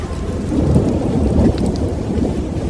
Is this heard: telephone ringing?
no